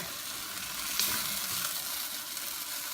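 Pancit palabok sauce with fish sauce sizzles in a pan while being stirred, a steady close hiss with a brief scrape about a second in.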